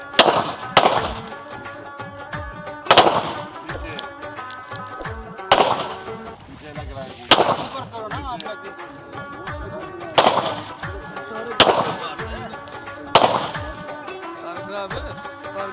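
Heavy gunfire rings out as about eight loud single shots, spaced roughly one to two seconds apart, each with a short ringing tail over a steady tonal background.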